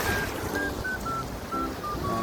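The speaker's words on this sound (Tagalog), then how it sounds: "Lumalakas yung alon, guys." Strong sea waves at a beach in Saudi Arabia, a continuous wash of surf and rushing water, loud and close, with faint high tones faintly audible over it.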